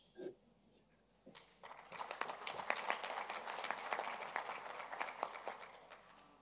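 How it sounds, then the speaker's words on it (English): Applause breaks out after a speech at a parliamentary assembly conference: a single clap, a pause, then a steady wash of many hands clapping from a seated audience, holding level to the end. "There was a round of applause for your contribution"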